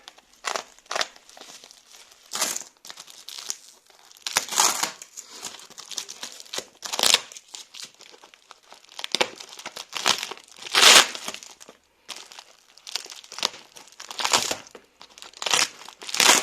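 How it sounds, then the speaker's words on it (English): Tape is pulled and pressed onto plastic bags of packed foodstuffs, making loud close crinkling and rustling bursts with sharp tearing sounds in an uneven rhythm, with no one talking. "Tape is just going easily, so I can still use these bags after"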